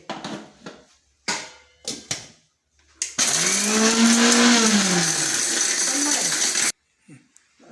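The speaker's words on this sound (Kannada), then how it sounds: "ಮೆಣಸಿನ್ಕಾಯಿ ಮೆಂತೆ ಎರಡು ಮೊದಲು ಪುಡಿ ಮಾಡ್ಕೊಳ್ಳೋಣ್ರಿ" An electric blender grinds dried chillies and fenugreek seeds, starting with a few short rattling pulses, then a loud continuous whirring grind of about three and a half seconds before stopping abruptly.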